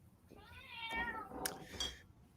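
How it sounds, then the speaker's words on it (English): A cat gives one drawn-out meow followed by a shorter second call, close and clear against a quiet room, with no talking. "Whose cat was this?"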